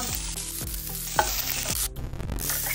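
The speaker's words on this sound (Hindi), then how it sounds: "कांदो बरो ब्राऊन जायसर भाजून घेऊया।" Onions fry in a pan for chana masala, a continuous close sizzle broken by repeated scraping stirs of a spoon against the pan.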